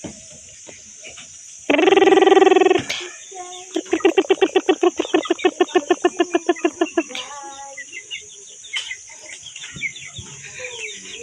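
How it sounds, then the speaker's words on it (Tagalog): A chicken clucks in a quick rhythmic series of calls, with a loud squawk before it and insects buzzing faintly in the background. "Manok ni Doy-Doy, oh."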